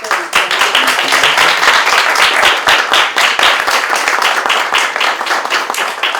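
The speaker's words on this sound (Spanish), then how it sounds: "un aplauso al proyecto de..." Audience at a student research editorial project presentation breaks into loud, close applause, with distinct individual claps standing out in a lively, continuous burst lasting about six seconds.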